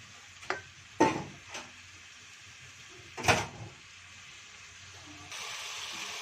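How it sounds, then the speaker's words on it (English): Vegetables, potatoes among them, being stirred into gravy for vegetable pulao, giving a few soft scraping and clattering strokes spaced across the moment, with a faint background hiss building toward the end. "This is exactly how you need to mix all your veggies into that gravy."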